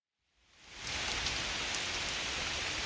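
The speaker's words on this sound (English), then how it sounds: "And it rains." Steady rain falls outside, fading in quickly and then holding as a dense, even hiss of drops on surfaces, moderately soft with no voices.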